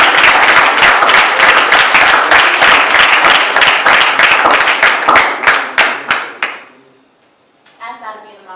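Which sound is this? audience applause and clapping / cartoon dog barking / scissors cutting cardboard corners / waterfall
audience applause and clapping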